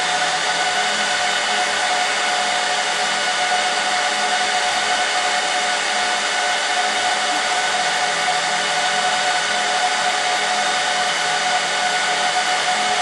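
An HP ProLiant DL385 G1 server boots with its cooling fans running, a loud, unbroken airy whir and hiss with a faint steady tone throughout, with no talk.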